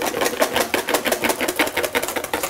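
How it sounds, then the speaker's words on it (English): Hand whisking of cream in a bowl, a quick steady rhythmic scraping and swishing heard close up, with no talking. "You can see the trails of the whisk in the cream."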